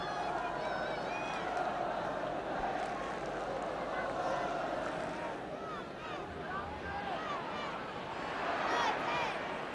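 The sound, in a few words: football crowd protesting a push on Chivers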